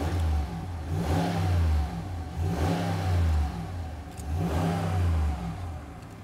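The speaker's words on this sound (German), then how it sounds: "dieser V8 hört sich durchaus kultiviert an" The V8 of a 2021 Dodge RAM 1500 Laramie Sport pickup revs three times in a row, each blip rising sharply from idle and falling back, loud and close with a deep rumble.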